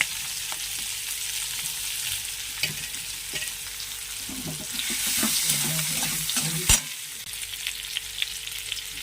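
Onion and bay leaf frying in hot oil after prawns, a continuous near sizzle with scattered spatula taps and scrapes, swelling louder midway as the onion goes in, with one sharp clatter.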